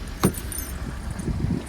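Car keys jangle once in a short bright burst near the start, followed by soft low rumbling and handling noises, recorded close in a quiet setting during a blizzard.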